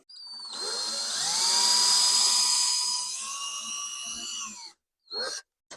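A power drill whines steadily for several seconds, its pitch shifting as it bores into a wall, then stops, followed by a short second burst close by.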